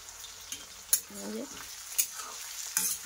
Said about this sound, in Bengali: এখানে পেঁয়াজ, আলু, টমাটোর, কাঁচা লঙ্কা সব এখানে ফ্রাই করতেছি